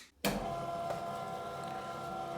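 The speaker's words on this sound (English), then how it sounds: "Let's grind everything first." A meat mincer fitted with a 10 mm plate starts abruptly and grinds sausage meat with a steady, close motor whir and hum that continues unchanged to the end.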